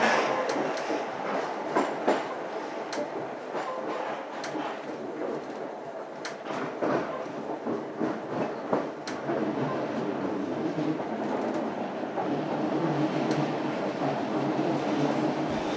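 South West Trains passenger trains rolling over Shackle junction between Teddington and Strawberry Hill near Kingston, with steady rumble and repeated clickety-clack of wheels over the points, close and sustained throughout.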